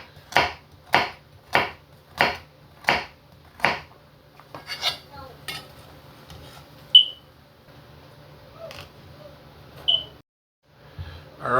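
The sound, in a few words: knife chopping carrots on a board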